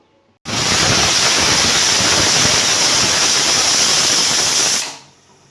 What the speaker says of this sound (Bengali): ঢাকনা লাগিয়ে 3টে সিটি দিয়ে আমি আমটা সেদ্ধ করে নেব।